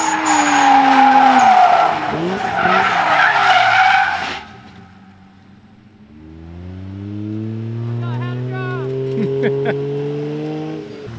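A car at a raceway skids loudly with screeching tires for several seconds, then a single engine rises and holds a steady drone in gear-like steps, with faint voices in the background.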